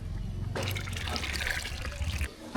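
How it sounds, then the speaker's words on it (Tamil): Tamarind water poured into a pot of boiling sambar with vegetables: a close, steady splashing pour lasting about two seconds over a low bubbling simmer, then tapering off. "இது கூட வந்து புளி தண்ணி சேர்த்துக்கலாம்"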